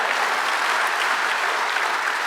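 A church congregation claps continuously, dense and even throughout, with no voices standing out.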